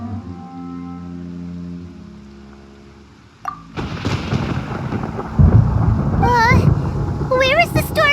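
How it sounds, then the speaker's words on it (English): A low rumble of thunder from a storm in the video game Genshin Impact breaks in suddenly after a calm musical passage, followed by rushing rain and wind with swooping tonal effects, loud and close. "Paimon hears thunder!"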